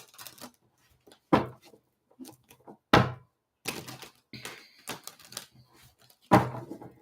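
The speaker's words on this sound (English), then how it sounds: "last shuffle here" A deck of playing cards is shuffled by hand in a series of quick riffles and taps. Irregular papery slaps and thunks sound close and moderately loud, with short quiet gaps and no talk.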